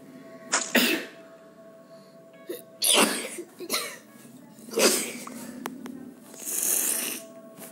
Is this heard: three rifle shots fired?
no